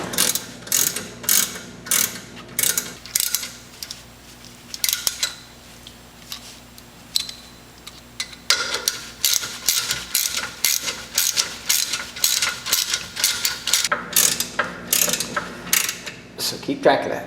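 A ratchet clicks rapidly and rhythmically while tightening the rear brake caliper pins on a BMW E46 3 Series with a Brembo upgrade, close and crisp, in two runs of repeated pawl clicks with a short pause between.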